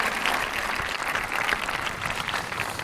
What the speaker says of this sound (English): If we could have a big round of applause for Tom Israel and Chen Li, that would be great.